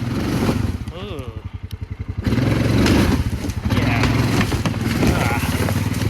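A Honda Rubicon ATV engine runs on a rough trail, a steady close mechanical drone that dips briefly and then rises again, with people talking over it.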